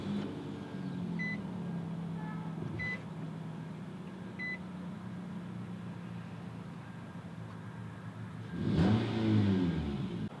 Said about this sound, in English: So I'm gonna go ahead and start it up.